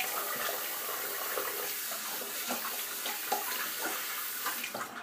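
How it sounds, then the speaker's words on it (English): Running tap water pours steadily into a sink while soap is rinsed off by hand, a close, continuous splashing rush with small sloshes and drips, no talking. "let me rinse this off"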